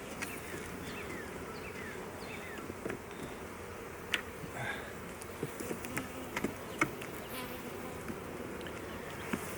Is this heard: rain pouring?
no